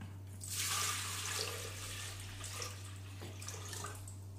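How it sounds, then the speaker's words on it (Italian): Steady stream of water filling a Monsieur Cuisine kitchen-machine jug, one litre poured in at once, a continuous close splashing rush that swells early and holds, over a low electrical hum. "Come prima cosa mettiamo nel boccale 1 litro di acqua."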